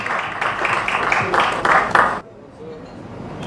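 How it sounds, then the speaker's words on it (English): Brief applause from a conference audience at an agricultural sustainability event, a dense wash of clapping that stops abruptly after about two seconds and leaves quiet room tone. "A round of applause,"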